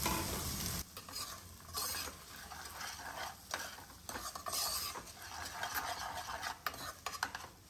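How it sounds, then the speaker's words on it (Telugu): Boiled chana dal sizzles gently in a pan while a spoon repeatedly scrapes and stirs it, with short bursts of clatter between quieter frying, close and fairly soft. "కొంచెం వేగాలి ఇది శనగపప్పు"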